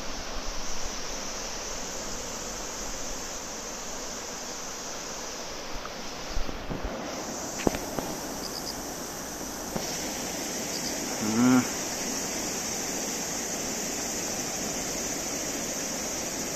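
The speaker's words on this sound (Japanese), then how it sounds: "団子岩あたりから聞こえてくる川の轟音、" A steady, broad roar of the flooded Nakatsu River near Dango Rock, Japan, fills the whole stretch, distant and constant, with a few faint knocks and a brief tone.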